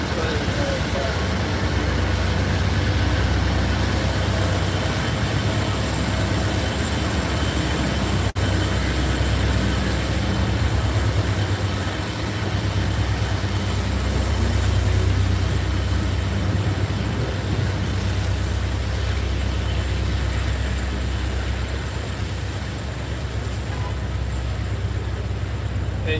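A train passes during a live outdoor camp gathering, a steady loud rumble lasting the whole stretch while someone talks over it.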